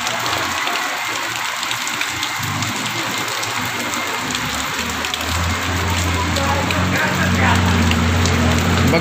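Heavy rain pours steadily over a flooded neighbourhood in More Vasti, a dense, unbroken hiss of falling water that stays loud and close for the whole stretch.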